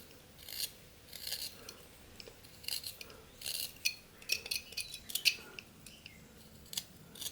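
Knife whittling wood in swooping cuts on a beginner carving project, giving soft scraping strokes in irregular short bursts, close but faint against a quiet background.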